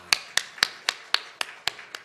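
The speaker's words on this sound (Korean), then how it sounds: "우리 박수 한번 쳐주죠" Sharp claps from a congregation at a Korean church's Sunday morning service ring out in a steady, evenly spaced rhythm, about eight in two seconds, fairly faint and with no voices.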